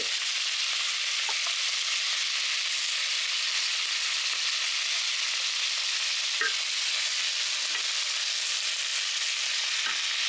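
Carbonade meat frying in a pot, a steady bright sizzle throughout with occasional soft scrapes and clicks of stirring, no voices.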